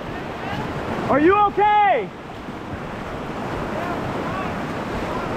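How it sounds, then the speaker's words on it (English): Rapids on the Kenai River give off a steady, rushing roar of swift water under wind buffeting. A person calls out briefly over it near the start. "There's huge rapids below you too. There's bigger rapids below you."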